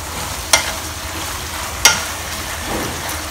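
French beans and minced pork with preserved olive vegetable being stir-fried in a wok: two sharp scraping clacks of a spatula against the metal over a steady, soft sizzle, with a fainter scrape near the end.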